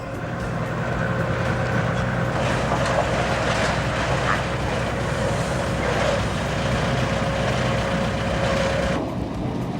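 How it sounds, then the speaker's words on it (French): A vehicle ferry crossing the Volga river, with a loud, steady engine drone and hum throughout, mixed with rumbling motion and wind noise, easing off near the end. "nous constatons qu'il est possible de prendre le bac véhicule par véhicule"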